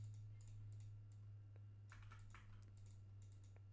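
Quick bursts of computer keyboard typing, faint and slightly distant over a steady low electrical hum, with short clusters of key clicks separated by pauses.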